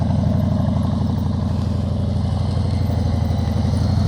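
A motorcycle engine runs close and steady during slow-speed riding practice, a continuous low throbbing with small throttle variations and no voices.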